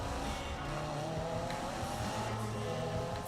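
Race car engine and squealing tires in the Need for Speed video game on PS4, a steady loud engine drone with sustained tire squeal running through the whole stretch.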